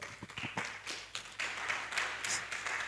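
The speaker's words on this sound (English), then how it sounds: "Let us give them just a round of applause." Applause from a conference audience after the presenters finish, a soft, dense spatter of clapping that builds a little and holds steady for a few seconds with no voices over it.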